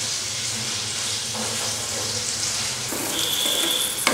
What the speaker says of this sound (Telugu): ఉల్లిపాయలు ఇలాగా రెడ్డగా వచ్చే వరకు ఇలాగా రోస్ట్ కావాలి